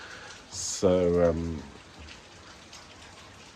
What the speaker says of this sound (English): unfortunately it's now pouring with rain.